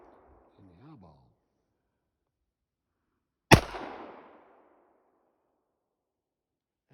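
A single loud, close gunshot from a Kimber 1911 .45 ACP pistol fired at an outdoor range cracks out sharply and rings off briefly, following a short stretch of talk.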